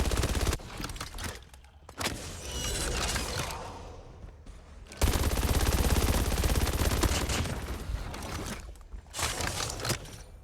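BP50 rifle firing in a video game, long rapid-fire bursts of gunshots, loud and dense, with short pauses between strings of automatic fire.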